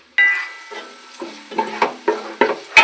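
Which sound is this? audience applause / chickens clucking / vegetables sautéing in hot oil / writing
vegetables sautéing in hot oil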